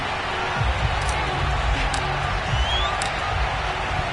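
A steady, roaring stadium crowd fills a Madden 22 game at M&T Bank Stadium in Baltimore, Ravens facing the Cardinals, with a broad continuous wash of cheering and a few soft thumps underneath.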